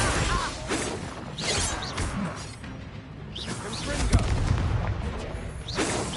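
Blasting spell explosions in Hogwarts Legacy, several loud bursts and crashes with whooshes spaced across the stretch, mixed with character voices speaking between them.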